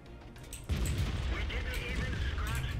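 A World of Tanks tank cannon fires once with a sudden deep boom, its rumble and debris rolling on for about two seconds, alongside game sounds and talking.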